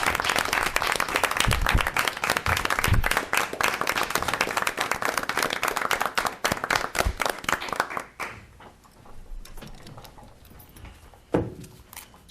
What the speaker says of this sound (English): if you'll join me in a round of applause,